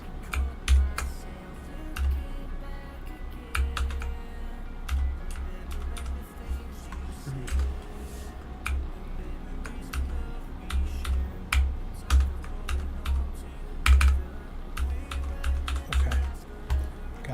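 Typing on a computer keyboard during play of a car mechanic simulator, with irregular bursts of close, crisp key clicks and occasional louder thumps spread across the whole stretch, alone without talk.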